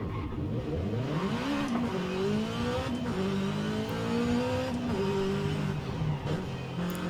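A Subaru BRZ in the racing game Forza Horizon 5 revs hard, its engine note climbing steadily in pitch through the gears, loud and continuous with no talking.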